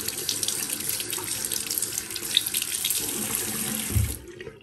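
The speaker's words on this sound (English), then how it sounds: "let's see what it looks like when I rinse it off" A trumpet mouthpiece is rinsed under a running tap, with a steady close hiss of water splashing into a sink that stops abruptly at the end.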